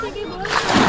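A person plunges into river water at Rishikesh, producing a sudden close splash and rush of churning water in the second half that follows a brief calmer moment.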